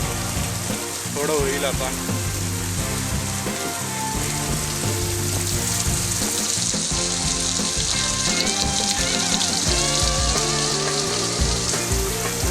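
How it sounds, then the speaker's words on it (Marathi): Heavy unseasonal rain pours down steadily after a storm, a dense hiss running throughout, mixed with tonal, music-like sounds and a brief spoken voice. "अवकाळी पाऊस पडतोय आणि खूप जोरात देखील पडतोय"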